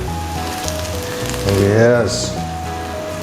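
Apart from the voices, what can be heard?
shallots sizzling in a pan with minced chicken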